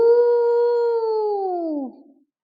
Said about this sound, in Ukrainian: Хто видає такий звук? Лев чи вовк? Так, малята, звісно, це вовк.